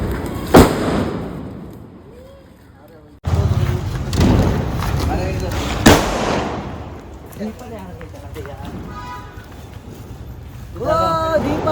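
Diwali firecrackers go off in a few sharp, loud bangs spread across several seconds, each a sudden close blast, between stretches of people talking and calling out nearby.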